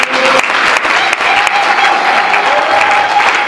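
A church congregation in Orléans applauds and cheers in praise of Jesus Christ: dense, sustained clapping from a large crowd, loud and close, with voices mixed into the ovation.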